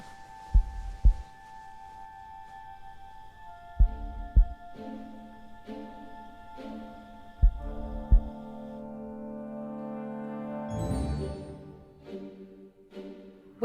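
Muffled heartbeat thumps from the film Doctor Sleep come in close double pulses, repeating three times over a low sustained hum and drone that swells near the end.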